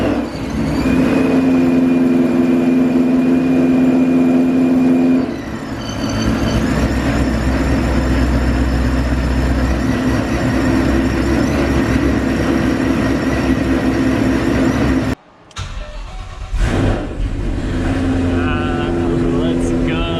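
A built 5.8L Ford Shelby GT500 V8 starts for the first time and settles into a loud, steady, close rumbling idle, with a brief dropout and then the engine running on.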